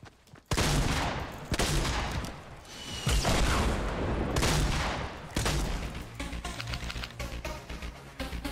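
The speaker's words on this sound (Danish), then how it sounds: "Jeg så slet ikke, de havde skudt raketter efter mig." Rockets fire and explode in bursts in the Fortnite video game, loud dense blasts and booms that come in several waves followed by rapid crackling gunfire, with no talking.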